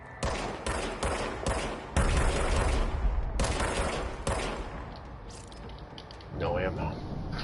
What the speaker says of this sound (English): Okay, now I have a gun. Fire service weapon.